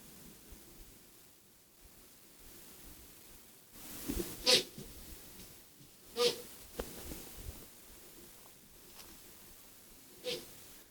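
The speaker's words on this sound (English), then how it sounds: "Goat's barking at me." Several short, sharp nasal snorts from a goat ring out at irregular intervals over a quiet outdoor background, moderately near.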